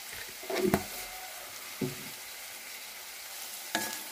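Sliced onions frying in oil with salt added, a steady close sizzle with a few scraping stirs spaced across the clip.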